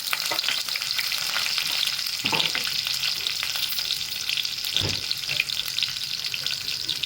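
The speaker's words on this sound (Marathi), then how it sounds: "तेल तापलं की त्याच्यात कढीपत्ता" Curry leaves crackle and sizzle in hot oil in a kadai for a dried-shrimp curry, a dense continuous frying hiss with a couple of sharper spatters, close and loud, no voices.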